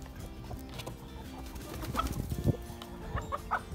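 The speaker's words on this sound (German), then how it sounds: "da kommen sogar die Hühner von der Nachbarwiese wieder" Several chickens cluck and peck nearby in short, irregular bursts, with a few higher squawks toward the end and quiet rustling between calls.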